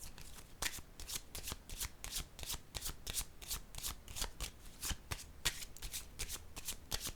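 Tarot cards shuffled by hand in a quick, even series of crisp riffling bursts, close and fairly quiet, with no talking over them.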